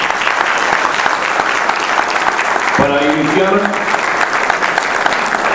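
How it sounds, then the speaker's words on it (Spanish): Strong, dense applause fills a union gathering for the SEDAPAL workers' union, steady and close throughout while a voice speaks briefly over it. "brindar un fuerte aplauso al Sindicato Único de Trabajadores de SEDAPAL"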